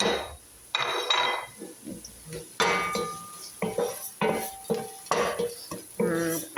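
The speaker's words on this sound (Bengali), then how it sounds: "পেঁয়াজ আগে ভাজি করে নিচ্ছি" Onions frying in a pan are stirred with a utensil, giving a series of close, sharp clattering scrapes in bursts, with a faint sizzle underneath.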